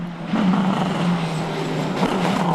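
A rally car in the 2003 Circuit of Ireland Rally takes a tight hairpin, its engine droning steadily and loudly with slight rises in revs as it passes close by.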